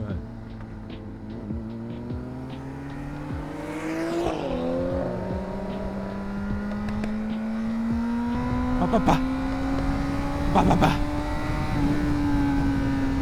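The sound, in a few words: motorcycle exhaust popping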